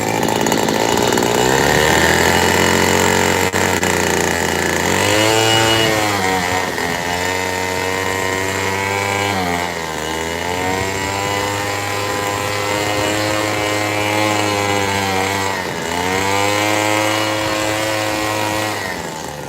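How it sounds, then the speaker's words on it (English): Small two-stroke leaf blower running steadily and loud for the whole stretch, its high engine whine rising and dipping in pitch as the throttle is worked, at a wood-carving setting with no voices over it. "So where's my leaf blower hiding?"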